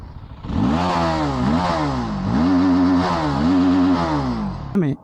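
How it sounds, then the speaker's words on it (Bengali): A TVS Apache RTR310 motorcycle's exhaust rumbles at idle and is revved through its silencer, a close, loud, rising and falling engine note with a brief clatter at the end. "সাইলেন্সারের আওয়াজটা শোনাই।"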